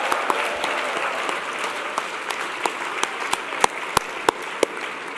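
An audience at a conference general session in a hotel ballroom applauds steadily, a dense clapping wash with a few sharp, close individual claps standing out, sustained throughout.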